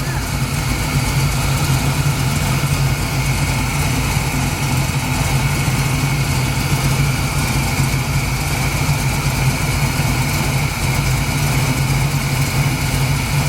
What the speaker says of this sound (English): I hear a little header leak.